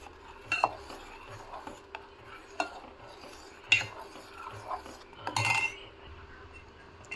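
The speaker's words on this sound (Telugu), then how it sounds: "లో ఫ్లేమ్లో పెట్టుకొని తిప్పుకుంటూ ఉండండి." A spoon stirs milk thickened with cornflour in a pot over a low flame for mango ice cream, giving soft scrapes and several distinct metallic clinks against the pan at irregular intervals, quiet and close.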